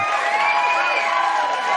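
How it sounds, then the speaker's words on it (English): A studio audience roars and cheers without pause at the opening of a live comedy podcast show, a loud, dense crowd wash with no breaks. "Yes, keep clapping."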